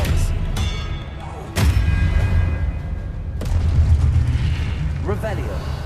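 Expelliarmus spells fire off repeatedly in Hogwarts Legacy, loud booming bursts with sharp attacks and rumbling tails layered over continuous game noise, a voice speaking partway through.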